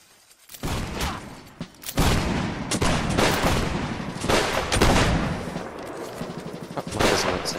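Video game gunfire rings out in loud, dense bursts of rapid shots and booming reports, with barely a pause between volleys.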